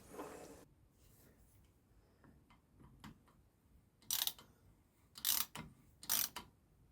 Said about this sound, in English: Popped on the nut and then tightened it with a socket wrench.